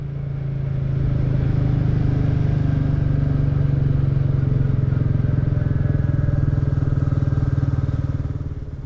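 A Royal Enfield Classic 350 motorcycle rides along a highland road, its steady single-cylinder engine drone thumping loudly and continuously throughout with wind rumble and no voices.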